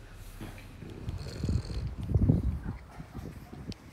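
A French bulldog pants after climbing trees outdoors, its breathy huffs and snorting bursts rising in the middle and fading toward the end, close to the listener.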